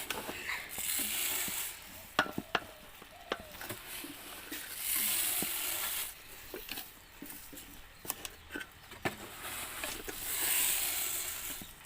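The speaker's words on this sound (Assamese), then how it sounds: "এইখিনি চেনি দি ভালদৰে লৰাই চেনিখিনি গলালৈকে ধুৱাই ধৰিছোঁ।" Sugar stirred in a pan as it melts while sweet pulao is cooked, producing faint, intermittent scrapes and light taps from the spoon over a soft, patchy sizzle, with no voices.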